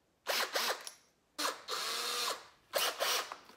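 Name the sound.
drilling a hole in fishing rod tubing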